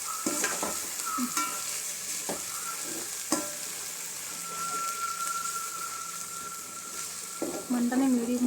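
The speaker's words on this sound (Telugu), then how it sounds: "ఇవి కూడా పూర్తిగా బాగా మగ్గిపోయే వరకు ఫ్రై చేసుకోవాలండి" Ingredients for bagara rice fry in a pan, a continuous loud sizzle broken by several stirring scrapes, with a short burst of activity near the end.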